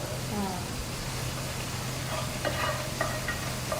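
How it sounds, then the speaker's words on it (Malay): Beef for Indonesian daging gepuk frying in hot oil until crisp: a steady close sizzle with occasional stirring clinks and scrapes, a voice faintly present underneath. "kita goreng dia hingga dia garing"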